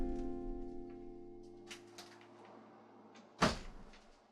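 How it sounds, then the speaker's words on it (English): A door shuts with a single sharp thud near the end, after a stretch of quiet room tone with faint hum. "I'm going to close that door."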